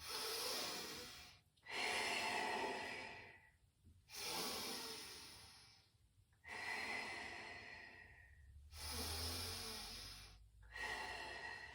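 Slow, steady breaths during a Pilates exercise: six long alternating inhales and exhales, each a broad airy hiss separated by short pauses, close to the microphone with no talking.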